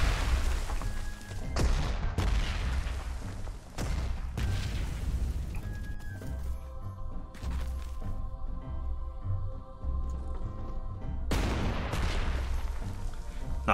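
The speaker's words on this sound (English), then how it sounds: "Oh wow, this artillery is coming across." Artillery fire in the strategy game Panzer Corps 2: repeated deep booming blasts and crackling volleys in separate bursts, loud and close, with a sustained tonal drone of game sound between them and no talking.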